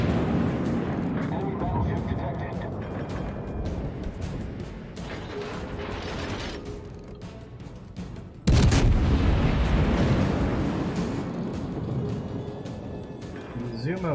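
Warship naval guns firing in World of Warships, with rumbling booms and a heavy salvo blast near the middle, loud and sustained beneath a man's speech.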